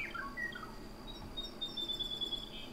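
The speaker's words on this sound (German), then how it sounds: "wenn die Vögel aufhören würden zu zwitschern" Birds chirp in the survival video game DayZ, with thin, high tweets and short whistled calls over a quiet outdoor background, fairly faint and with no voices.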